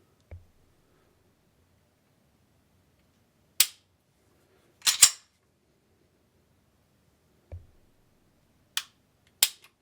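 A Walther PPQ pistol chambered in .45 ACP fires several sharp, isolated shots, some in quick pairs, spread across the stretch with quiet gaps between them.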